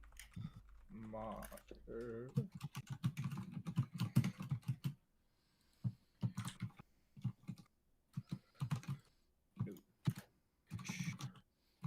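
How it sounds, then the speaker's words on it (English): Keys on a computer keyboard clatter in quick bursts of close clicks during a tabletop role-playing game session, with people talking over and between the typing. "I'm typing it in."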